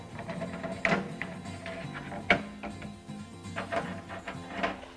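A handheld screwdriver drives Phillips screws while a Mychanic SK2 SideKick stool with tool caddy is assembled, giving a few sharp clicks and scraping turns over a low steady background.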